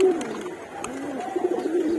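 Pigeons coo steadily at a loft, a low rolling burble repeating through the whole stretch with no one talking.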